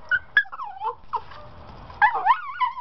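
A poodle gives repeated high whimpers and short yips in an excited, uneven run, fairly close and clear, with no talk over it.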